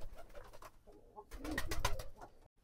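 Pigeons at feeding time cooing close by in soft, rolling bursts, with brief rustling and fluttering that swells before stopping abruptly.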